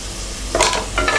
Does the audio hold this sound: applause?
no